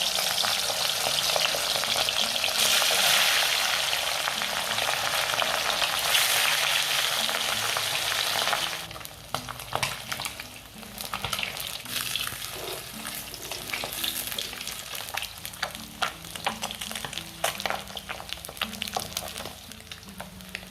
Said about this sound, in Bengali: অনিয়ন ফ্রাই করা এই তেলটাতে আমি মাছগুলো ভেজে নেব।